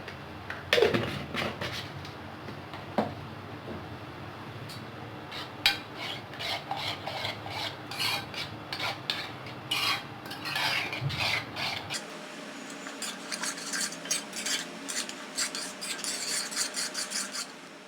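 A spoon scraping and stirring suji batter with salt in a bowl, a series of soft rasping strokes and light clinks at an irregular rhythm, close and fairly quiet with no speech.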